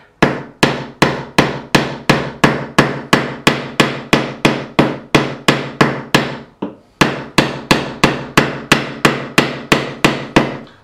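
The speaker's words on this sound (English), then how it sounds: "Make sure we hit it at a flat angle so we don't put any dents in the fingerboard" Hammer tapping frets into the fingerboard of an Ibanez Roadstar II RG200 guitar during a refret, a steady run of crisp, evenly spaced strikes, close and alone.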